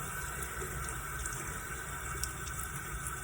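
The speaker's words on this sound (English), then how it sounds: "I'm just going to wet" Tap water runs steadily to wet a makeup brush used for foundation, a soft continuous hiss close to the microphone with no talking.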